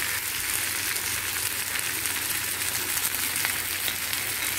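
Chicken ghee roast frying in ghee in a pan, a dense, steady hiss and crackle of sizzling that holds evenly throughout, close and loud with no talk.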